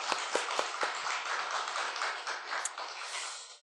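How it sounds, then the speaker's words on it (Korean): A church congregation at a Sunday morning worship service breaks into warm, dense applause, with sharp individual claps standing out at first before the clapping fades out. "우리 하나님께 우리 영광의 박수 한번 돌려주셨으면 좋겠습니다"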